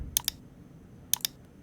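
Computer mouse clicked while a VPN installer runs on a PC, two pairs of quick sharp clicks about a second apart, close and crisp over a quiet room.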